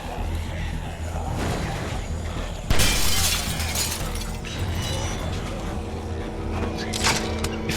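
A television's glass screen shatters as the set falls over, a loud crashing burst of breaking glass mid-clip amid ongoing background noise and scattered debris sounds.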